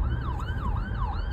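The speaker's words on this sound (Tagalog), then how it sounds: "Meron po kasing ambulansya, so kailangan tayong tumabi" Ambulance siren wailing in a rapid rising-and-falling sweep, loud and close, over low traffic rumble.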